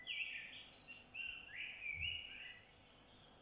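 Wild birds chirp and trill in short bright phrases through a quiet outdoor nature setting, with faint insect hum and soft ambient background, no voices.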